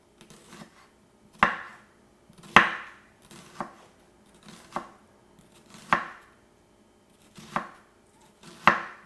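A knife slices thinly through food on a cutting board for pho, each cut landing as a sharp tap on the board, about eight spaced strokes, close and clear with quiet between them.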